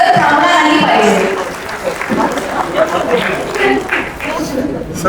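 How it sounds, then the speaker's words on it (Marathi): Steady, crowded applause from an audience at an award ceremony during a food safety and turmeric buyer-seller meet in Nagpur, loud and continuous throughout while someone speaks over it. "यासाठी जोरदार टाळ्या तुमच्या झाल्या पाहिजे, टाळ्याचा गजर थांबला नाही पाहिजे।"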